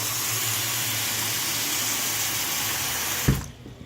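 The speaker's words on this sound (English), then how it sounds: "you want to run the water." Water runs steadily from a cleaned household tap with a constant rushing hiss, then stops abruptly near the end with a short clunk.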